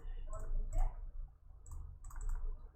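A few sharp, light computer mouse clicks, close by, scattered over a low background with murmured talk.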